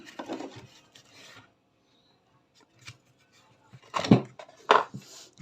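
Screws are removed from a burnt e-bike motor during disassembly: short, scattered scraping and rasping bursts with metallic clicks and quiet gaps between them, close and fairly faint.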